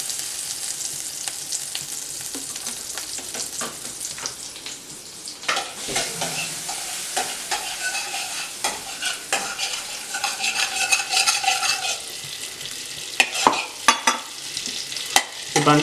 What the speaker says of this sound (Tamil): அந்த பேன் வந்து ஹாட் ஆனோடனே நம்ம வந்து பட்டர் போடுறோம்